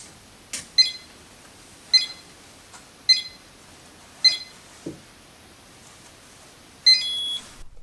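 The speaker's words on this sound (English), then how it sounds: "2 red, 2 yellow, 2 blue, and 2 orange lights will flash in time with 5 short beeps and 1 long beep" An RFID card reader door lock beeps while its master card is programmed: a series of short, bright electronic beeps spaced about a second apart, then one longer sustained tone, clear and close in a quiet room.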